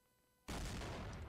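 Gunfire in the Roblox game Criminality breaks a near-silent moment with a sudden loud burst that continues as a dense, sustained barrage for the rest of the moment.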